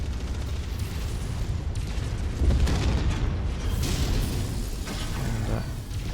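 In MechWarrior 5, an enemy mech blows apart as it is destroyed, a heavy booming explosion that rumbles and crackles over several seconds amid ongoing battle noise, with a brief swell of blast energy midway.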